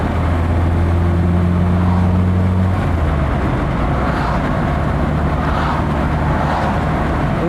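A Lada Riva Estate VAZ 2104 engine drones loudly and steadily while driving, a continuous low hum with road and wind noise, the tone shifting slightly partway through.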